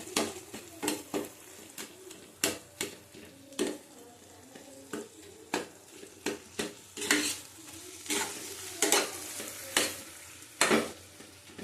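Boiled potato being stirred and mashed in a frying pan for ghugni, a spatula scraping and knocking against the pan in irregular repeated strokes over a soft sizzle, close by, with no talking.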